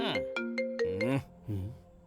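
A mobile phone ringtone plays a bright, repeating electronic melody up close, then fades into softer background sound in a dramatic Hindi film scene.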